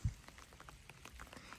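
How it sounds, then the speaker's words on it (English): Light rain patters on an umbrella on a hiking trail, faint and close with scattered soft drop taps and a single louder thump at the start. "Yep, it's raining out"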